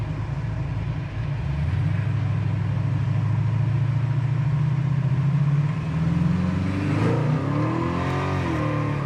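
A 1969 Chevy Camaro engine with headers roars steadily, then revs and climbs in pitch as it accelerates hard near the end, loud and close with no talking.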